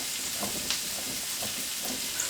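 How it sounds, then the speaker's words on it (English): Onions sizzling gently in heated oil for a chestnut and cranberry stuffing roll, a steady soft crackle and hiss with light stirring scrapes. "Just gently heat the oil and then add the onions and let them cook for about 5 minutes till they're soft"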